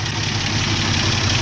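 The engine of a 1964 GMC pickup truck, due for new valve cover gaskets, running at a steady idle: a loud, continuous low rumble with a faint rhythmic knock, heard close up.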